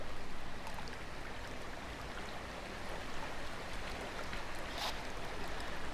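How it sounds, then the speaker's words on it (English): A waterfall inside a cave in a robotic cave-exploration video game, heard as a continuous broadband rush of falling water, steady and fairly loud throughout with no voices. "So, this is apparently a waterfall"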